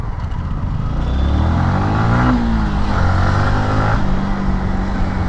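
A Yamaha MT 15 motorcycle engine revs up while riding, loud and close, its pitch climbing through an acceleration and then settling into a steady hum, with no talking.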